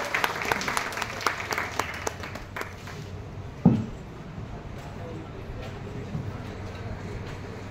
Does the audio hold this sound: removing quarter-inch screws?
no